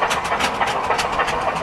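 A Burrell single-cylinder steam traction engine runs at a steam rally, giving a steady mechanical rumble with rhythmic, evenly spaced exhaust beats and clanking. It stays close and fairly loud throughout, with no talk.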